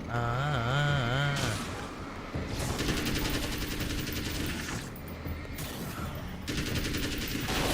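Rapid machine gun bursts in the video game Alan Wake's American Nightmare, several loud rattling volleys separated by short gaps, over game music and effects, with a warbling tone near the start.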